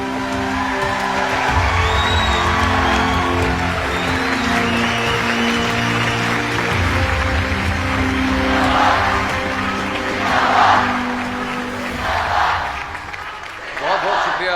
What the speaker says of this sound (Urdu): آپ سب کی بھرپور تالیوں میں ہم چاہیں گے کہ ایک دفعہ شکریہ ادا کریں